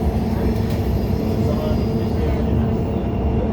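A train rolls steadily through a university campus near an airport terminal, giving a continuous loud rumble and hiss with no clear breaks.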